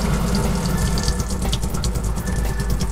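Water runs steadily from a caravan tap into a sink, a close, continuous splashing gush with no talk.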